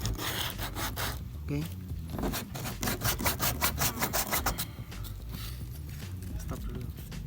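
Rapid rhythmic scraping of sandpaper on a cracked kayak hull in quick back-and-forth strokes, close up, with a short spoken word near the start.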